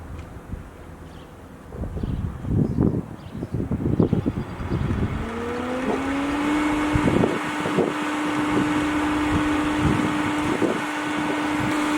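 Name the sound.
pool pump running at high speed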